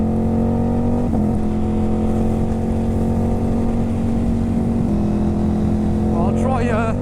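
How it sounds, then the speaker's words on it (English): A Ducati Hypermotard 950 SP with an aftermarket exhaust and ECU tune holds a steady, droning engine note close by, and near the end the pitch climbs and wavers. "let's just listen to the engine noise a bit"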